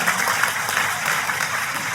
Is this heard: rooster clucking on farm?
no